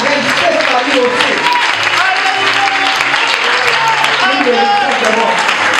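A church audience cheering and applauding loudly, with dense continuous clapping and shouting voices throughout while someone speaks over the noise.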